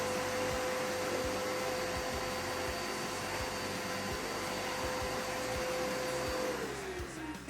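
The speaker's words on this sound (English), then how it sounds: "So you turn your shop vac on." A shop vac hooked to a miter saw runs steadily with a loud, constant whine that begins to wind down near the end.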